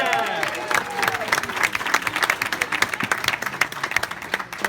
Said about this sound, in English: So let's give him a round